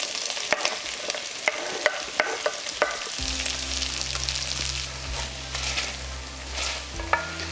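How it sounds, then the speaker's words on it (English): Vegetables sizzle in butter in a pot over medium heat, a steady frying hiss with scattered clicks of stirring, the sizzle thickening and rising after a few seconds and holding to the end with no talk. "So let's add some butter to this pot. And we're literally gonna add all our veggies to it."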